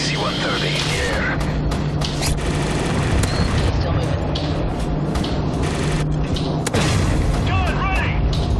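An AC-130 gunship in Call of Duty Modern Warfare 3 pounds the ground with repeated heavy booms and bursts of rapid cannon fire, loud and continuous, mixed with game voices and battlefield clatter.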